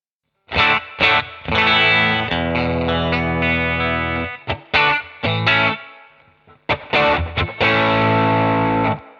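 Electric guitar through a warm, lightly driven Deluxe amp model, playing chords and bluesy licks with sustained notes and short pauses between phrases.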